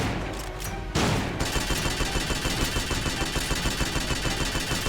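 Shotgun fire in the video game Metal Gear Solid: Peace Walker: after a brief lull, a loud burst of rapid repeated gunshots begins and continues in a steady pulsing volley, close and dominant with no talk.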